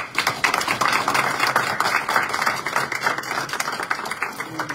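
Applause at a county commissioners meeting, a dense, steady round of many hands clapping close by, sustained throughout with only faint voices beneath it.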